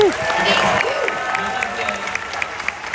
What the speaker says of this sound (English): We should just give Guy and Ryan, the writers, a special round of applause